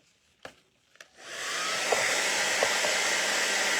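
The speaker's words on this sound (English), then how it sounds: "Let me hit it with dryer again." A couple of soft taps come first, then a hair dryer switches on and runs with a steady, loud blowing whir as it dries watercolor paint on paper, with a few small knocks partway through.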